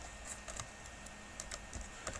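Quick bursts of typing on a computer keyboard, a handful of light clicks in an irregular rhythm, close and faint, with no talking.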